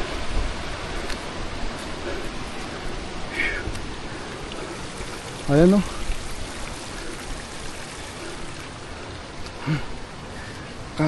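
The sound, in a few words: water flowing along a muddy farm path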